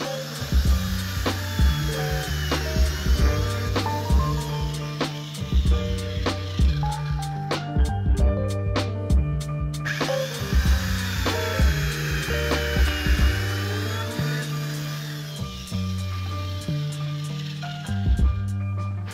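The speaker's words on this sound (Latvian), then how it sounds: "Tāpēc ieliekam tritonā 15 mm urbi, noregulējam dziļumu un uzliekam atduru 35 mm no malas." Triton router fitted with a 15 mm bit plunging into wood in a workshop, repeated bursts of whining motor and cutting noise in a regular rhythm, close and loud, with a short pause midway.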